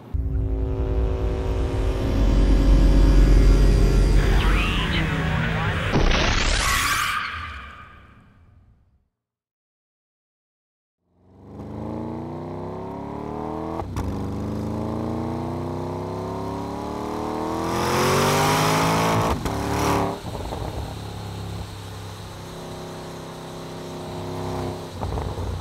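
A 2014 Porsche Panamera Turbo engine revs up to a rising whine, cuts to near silence, then returns with steady acceleration and shifting engine drone building loud again, with no talking.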